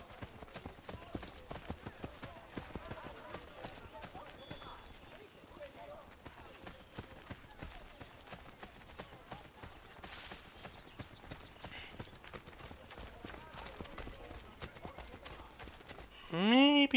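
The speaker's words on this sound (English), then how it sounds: "Oh, he's on a horse." Horse hooves clip-clop in a rapid, steady rhythm in Assassin's Creed Brotherhood, a continuous game sound with a brief whinny near the end.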